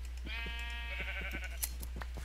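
A sheep in a video game gives a single wavering bleat lasting just over a second, close and clear over a low steady hum.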